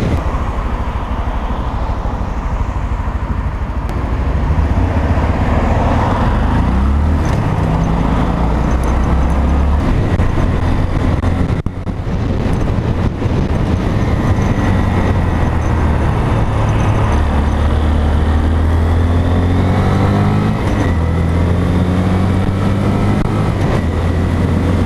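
A Grom motorcycle riding on a road, its engine a steady close drone with rising and falling pitch as it shifts through gears, continuous throughout with no talk.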